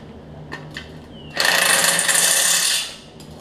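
A muffler is bolted onto a Troy-Bilt Bronco riding mower: a couple of faint clicks, then a loud, steady ratcheting burst of about a second and a half that stops abruptly, with no talking.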